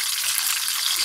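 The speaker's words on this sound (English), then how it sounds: "Just frying up." Steady hissing sizzle of bluefish frying in a hot pan, continuous and fairly loud with no talking.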